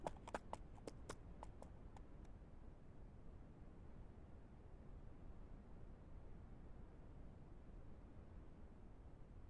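In Ranch Simulator, a horse running toward a gate makes a quick run of faint hoof clops over about two seconds, which then fades into quiet background hiss.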